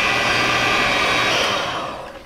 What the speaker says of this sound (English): we're gonna get our mixer back in here, and you're just gonna blend everything together slowly